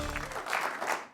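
A studio audience at a comedy talk show gives a short burst of clapping and cheering that trails off quickly, with a voice briefly heard at its start.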